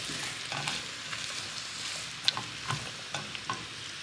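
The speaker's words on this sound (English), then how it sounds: "I'm gonna go ahead and add in my veggies. And I'm just gonna let these saute for a bit." Vegetables saute in a pan with a steady, close hiss, broken by occasional scrapes and light clinks of stirring throughout, with no talking.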